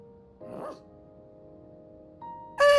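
Koromaru the dog in Persona 3 Reload gives a short whimpering yelp, then after a pause a sharper bark, both fairly close over a quiet background with soft music tones.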